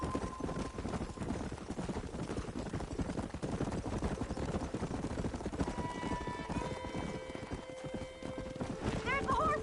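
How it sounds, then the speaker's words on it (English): Rapid hoofbeats of galloping horses in Red Dead Redemption on PS5, drumming steadily throughout with a sharp neigh near the end, while characters talk over the action. "There's the horses!"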